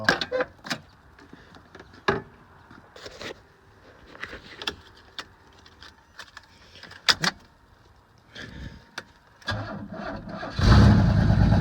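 Sharp clicks and bangs, then a Pontiac Fiero engine with no muffler cranks and catches into a loud, rough roar near the end.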